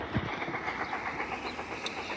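A commuter train rolls through the station at Elkins with steady, rhythmic clickety-clack from wheels on rail joints, moderately loud and close, with no voices.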